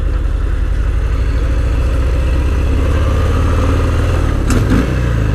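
A 2023 Harley-Davidson Fat Bob 114 being ridden, its loud engine droning steadily and close with a deep continuous rumble that swells slightly near the end.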